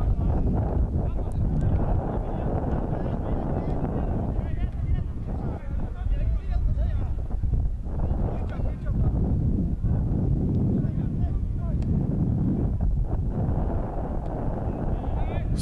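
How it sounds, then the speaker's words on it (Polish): Gusty wind at a football pitch buffets the microphone in low, rumbling surges, loud and continuous, with a voice speaking faintly underneath. "Słyszą Państwo ten wiatr."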